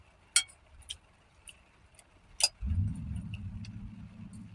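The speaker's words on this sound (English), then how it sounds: "That's the truck across the street." A truck's low engine rumble starts up across the street and keeps going steadily, after a few sharp clicks and taps nearby.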